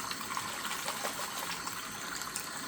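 Tap water runs steadily into a sink while makeup brushes are rinsed, a soft continuous trickling splash, fairly quiet and close, with no talking.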